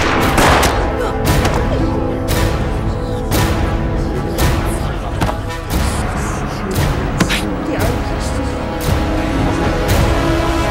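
Repeated gunfire bursts from a Chinese war drama set during the Red Army era in Hong'an, loud sharp shots and volleys scattered across the scene over a dense, busy background.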